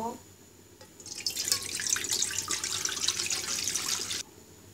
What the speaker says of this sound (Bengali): এবার আরেকটি প্যানে আমি তিন কাপ পরিমাণ পানি ঢেলে দিব